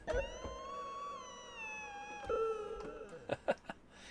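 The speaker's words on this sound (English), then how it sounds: "Howling dogs." Howling-dog effect from a beginner's synthesizer: a long wavering tonal wail rich in harmonics, sliding slowly down in pitch, with a second swell midway and a few short yelping bursts near the end, heard alone without talk.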